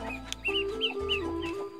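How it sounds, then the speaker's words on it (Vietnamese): Farm chickens cluck and chirp in a series of short calls at close range, with a steady low hum underneath and no talking. "bên đây là gà các bạn"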